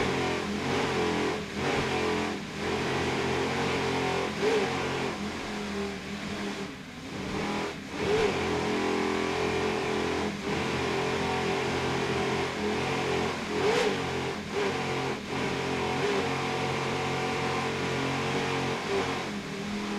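A 33-foot Viper powerboat racing in the P3 class at a world championship, its engine surging and revving sharply after popping out of gear, loud and continuous over a steady motor drone throughout.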